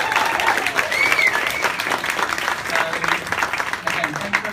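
Sustained loud applause from a crowd at an album-launch event in the UK, dense clapping with whistles and cheers and voices mixed in.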